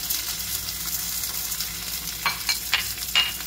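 Garlic fries in a pan with a steady, bright sizzle throughout, joined near the end by a few sharp scraping stirs of a utensil; no talking.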